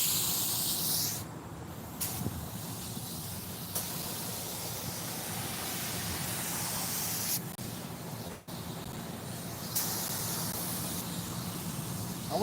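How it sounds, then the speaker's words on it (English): A paint spray gun hisses in long continuous bursts in an auto body shop, broken by short pauses, loud and steady with no talking. "So I got my spray gun."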